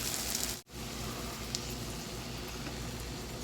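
French toast fries in a pan, golden brown on one side while the other side cooks, giving a steady, even sizzle that fills the whole stretch with one brief dip near the start.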